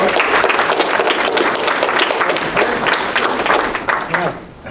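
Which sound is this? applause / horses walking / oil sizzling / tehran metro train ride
applause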